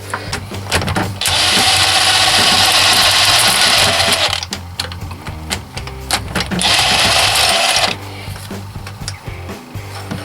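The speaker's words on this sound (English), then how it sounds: "the bolts are so loose that there is no risk of damaging the head, so you can just wind them out with electric tool if you have one" An electric tool winds out loose cylinder head bolts on a Suzuki RF 1100 motorcycle engine, whirring loudly in two sustained runs of a few seconds each, with clinks and handling noise between them.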